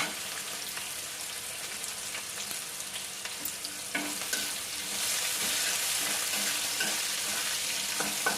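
Onions and cashews sizzle and crackle in a hot pan for a paneer chilli dish, with scraping stirs throughout and the frying growing louder and denser halfway through; no voices.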